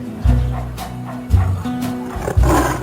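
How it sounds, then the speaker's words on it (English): A cartoon puppy barks three times in short, loud, booming bursts spaced about a second apart, with no talk over them. "Don't bark."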